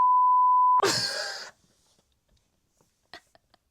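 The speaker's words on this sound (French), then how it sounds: "Je vais biper le nom." A steady electronic censor beep sounds close and clear for under a second, cut off by a brief burst of noisy voice, then near silence.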